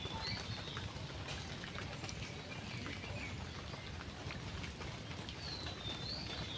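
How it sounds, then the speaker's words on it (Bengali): Light drizzling rain falls outdoors in a rural setting, a steady soft hiss and patter that runs unbroken and evenly throughout, with no voices. "এখনো তো ঝিরি ঝিরি বৃষ্টি পড়তেছে"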